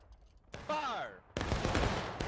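A reenactment infantry company fires a rifle volley at a battle reenactment: a shouted command, then a loud, ragged burst of near gunfire and a second shot just after.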